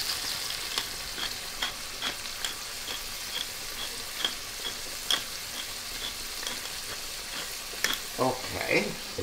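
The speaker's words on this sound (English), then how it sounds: "now we give a nice turn for the shrimp" Shrimp sizzling steadily in a frying pan, with a continuous hiss and small crackles, and a few clinks near the end as the shrimp is turned; close and moderately quiet.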